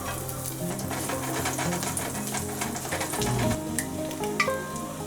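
Tofu and garlic sizzle and crackle steadily in hot oil in a pan over high heat, a dense continuous frying hiss with small pops and occasional stirring noises.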